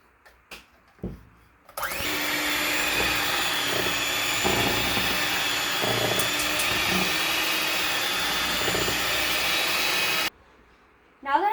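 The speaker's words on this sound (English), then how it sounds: "now we're going to use the mixer." An electric mixer whirs through banana bread batter in a bowl, a loud, steady motor hum lasting about eight seconds, close by, with brief clatter just before it starts.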